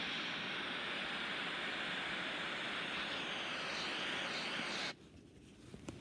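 A rocket lifts off with a steady, broad, roaring rumble heard from a distance, holding constant for about five seconds before dropping abruptly to a quieter background.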